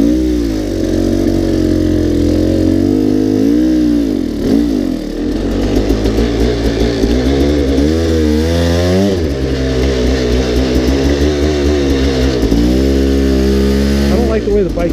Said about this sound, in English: I don't like the way the bike's idling right now.